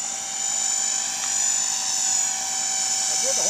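A Blade 300X radio-controlled helicopter flies with a steady high-pitched rotor and motor whine that holds level throughout, close by and loud, with people talking faintly beneath it.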